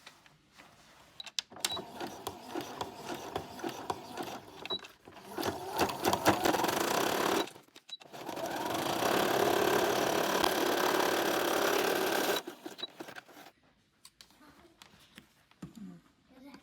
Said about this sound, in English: We're gonna sew our waistband together from here to here using a zigzag stitch and 1/2 inch seam allowance.